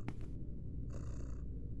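Sleeping cats purring in the video game Yuppie Psycho: a soft, low, close rumble with two short breathy swells, the second longer, with no voices.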